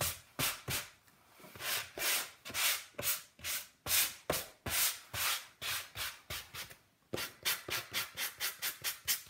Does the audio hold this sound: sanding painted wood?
yes